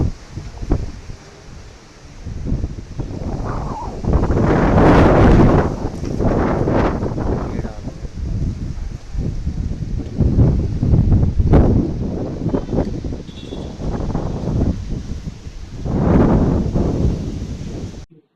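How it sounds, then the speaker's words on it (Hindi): Strong gusting wind during a dust storm in a rural roadside area rushes and buffets loudly against the microphone in surging waves, with rustling debris and no speech. "क्षेत्र में तेज अंधड़ के साथ हवा चली"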